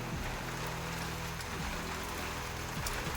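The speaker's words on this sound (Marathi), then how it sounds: "पावसाला सुरुवात केली बघा" Sudden heavy rain pours down outdoors, a steady dense hiss of drops striking surfaces with a faint low rumble underneath, loud and unbroken throughout.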